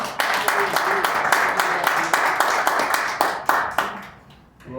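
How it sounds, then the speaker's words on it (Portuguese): Church congregation at a Pentecostal-style service clapping in the name of the Lord, many hands in a brisk, fairly regular rhythm of distinct claps that hold steady before tapering off, with some voices underneath. "Então aplaude ao nome do Senhor."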